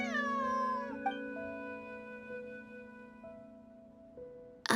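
A cat meows in the game Genshin Impact, one drawn-out descending meow at the start, then sustained musical tones play quietly alone, ending in a sudden sharp noise.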